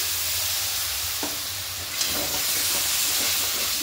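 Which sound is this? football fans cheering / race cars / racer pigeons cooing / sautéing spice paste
sautéing spice paste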